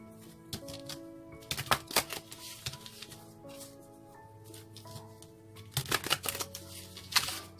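A deck of tarot cards is shuffled in two short, crisp flurries of riffling and flicking, close by, over soft sustained background music tones.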